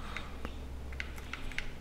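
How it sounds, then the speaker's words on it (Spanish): Typewriter keys struck in the video game The Shattering: a handful of sharp, fairly quiet mechanical clicks at an uneven pace over a low background hum. "Mi máquina de escribir."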